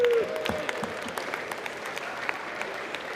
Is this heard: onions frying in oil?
no